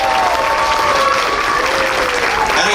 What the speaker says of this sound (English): Ladies and gentlemen, a round of applause for all your contestants,